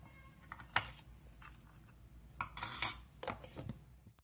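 Curry leaves, garlic and salt being ground into a spice powder: sparse, quiet clinks and knocks come in irregular bursts over a low background.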